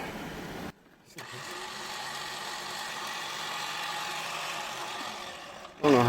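A winch on a Gen 3 Frontier or Wrangler slacking its line, a steady mechanical whir that starts after a brief gap and runs evenly for several seconds, with a louder shift at the end.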